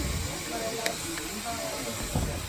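Hair product sprayed onto hair that is being shaped to look like fabric, a steady broad hiss running through the whole stretch with a couple of brief sharper bursts, close up.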